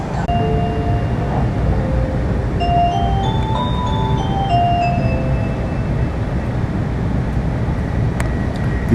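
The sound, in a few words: bullet train chime melody on Japanese rail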